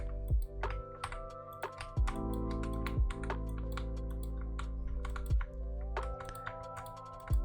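Sharp clicks from an office computer mouse, about a dozen spaced irregularly over a steady background hum and music-like tones, close and distinct.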